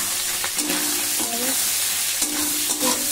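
Soybeans frying in a pan with turmeric powder and salt, a loud close sizzle broken by repeated scraping strokes of a spatula stirring them, with no voices.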